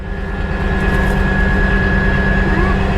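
A Caterpillar D11 bulldozer with straight-pipe exhausts runs loud and close, its steady diesel drone holding a constant low rumble with a faint whine above, with no clear rise as the throttle is pushed forward.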